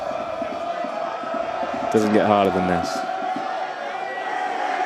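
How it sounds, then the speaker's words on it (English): A large rugby crowd at a men's university match between Cardiff Met and Hartpury lets out a short, loud bellowing roar, with a constant crowd murmur under a commentator's voice. "In front of the Ultras, in front of that massive crowd"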